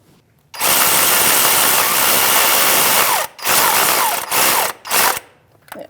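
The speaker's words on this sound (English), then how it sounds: "I'm going to take my 15mm socket and I'm going to just snug up both mounting bolts." A power tool spins a 15mm socket to snug the starter mounting bolts on a 2016-2025 Chevrolet Malibu 1.5L L4: one loud, close whir runs about three seconds, then three shorter bursts follow, with no talking.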